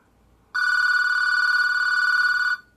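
A telephone rings with a steady electronic tone for about two seconds, loud and close, as a call tries to go through on a phone wrapped in tinfoil; no one speaks.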